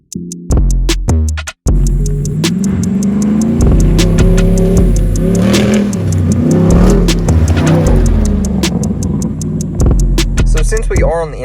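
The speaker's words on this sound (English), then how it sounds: "you can probably tell just by the sound right now, but this is the Rubicon 392" Jeep Wrangler Rubicon 392 V8 engine, a loud, close rumbling roar that rises and falls through several revs, heard from inside the vehicle with ticking clicks on top and wind noise; a person speaks over it.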